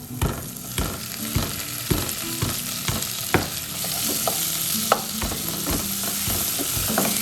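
Onion and tomato fry in a pan for chicken curry, a loud continuous sizzle with rhythmic scraping strokes of a spatula repeating close up, with no talking.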